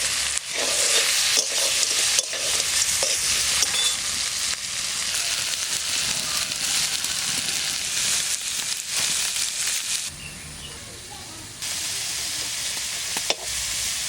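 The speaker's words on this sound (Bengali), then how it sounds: "সবকটাই দিয়ে দেবো, উল্টে পাল্টে একটু ভেজে নেব" Ajay river giant freshwater prawns fry in a little oil and get turned in the pan, a loud continuous sizzle with scraping stirs, louder at first and easing toward the end.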